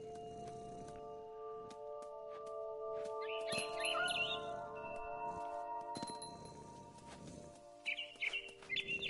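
Mama bird calling in the game What Remains of Edith Finch, two short bursts of chirping heard faintly over a steady tonal game score with soft clinks.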